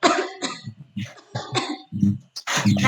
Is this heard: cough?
yes